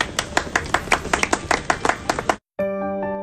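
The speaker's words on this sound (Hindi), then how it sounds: "चलिए अब हमारी टीम के लिए ताली बजाइए।" Clapping for a flood rescue team in Mandla, a quick run of distinct claps lasting about two seconds, then a sharp cutoff into a brief tonal electronic sound.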